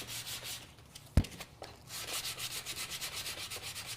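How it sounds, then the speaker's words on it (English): 220 grit sandpaper rubs over a wooden floral box sign with a soft, steady scratching rhythm, quiet and close, after a single sharp tap near the start. "and just kind of sand it"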